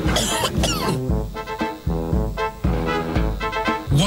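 A man coughs again and again in a Nigerian radio drama, with harsh close bursts in quick uneven succession that run nearly without a break.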